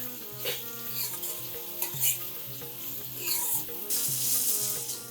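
Chopped onions stirred and sizzling in a pan for spicy Kolhapuri kanda zunka, with bursts of scraping and frying that swell and ease over a few seconds, close and without talk.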